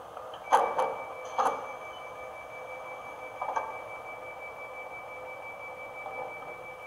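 Door-closing sound from a Fleischmann ICE BR 407 model train: a few faint sharp clicks and short beeps over a thin steady tone, quiet and close, with no voices.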